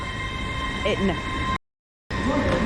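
A train pulls out of Bolton station with a steady, loud rumble and some faint squealing. A brief dropout to silence interrupts it partway through, and there may be quiet voices.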